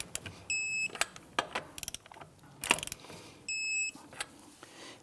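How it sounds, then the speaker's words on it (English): A torque wrench ratchets lug nuts down to 76 foot-pounds on a 1992-1996 Toyota Camry after a front lower control arm swap, with quick clicking bursts, two steady electronic beeps and metallic clanks at close range. "Go ahead and torque your lug nuts down to 76 foot-pounds."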